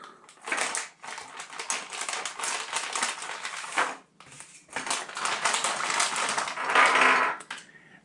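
Crinkly plastic and cardboard packaging rustles and crackles close up as a GoPro roll bar mount is unpacked, in two long dense bursts with a brief pause between them and no talking.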